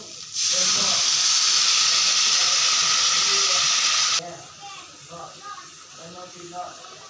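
Water poured into a hot pan of spiced egg curry hits with a loud, steady steaming hiss for about four seconds, then cuts off abruptly to a low simmer while a voice talks over the quieter bubbling.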